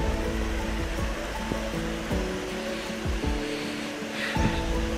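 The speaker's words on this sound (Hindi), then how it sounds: "गाइस ये है जीबी वाटरफॉल।" The Jibhi waterfall roars steadily with a loud, broad rush of falling water, close by and unbroken, with no voices over it.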